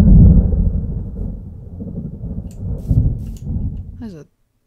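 Thunder rumbling in a Minecraft storm with a localized weather mod, a heavy low roll that swells and fades over several seconds before stopping abruptly, with brief voice sounds near the end.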